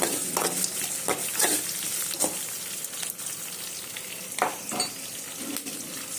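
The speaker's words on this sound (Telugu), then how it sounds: "నూనె పోసి ఎండుమిరపకాయలు, తాలింపు దినుసులు" Dried red chillies and tempering spices sizzling in hot oil for a potato curry, a steady close frying crackle with spoon stirs and scrapes throughout, no voices.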